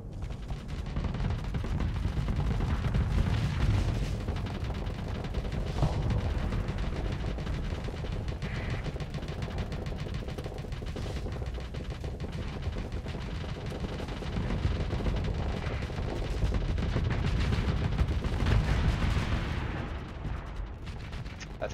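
Continuous spaceship weapons fire and explosions, including Reaper blasts, in a modded space combat video game, a dense loud barrage of booms and rattling shots with no pauses.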